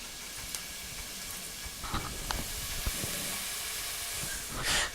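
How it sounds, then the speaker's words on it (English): Garlic sizzles in oil in a pan, a faint, steady hiss with a few small pops and crackles, heard close up with no talk. "Now that our garlic has started to sizzle in the oil a little bit"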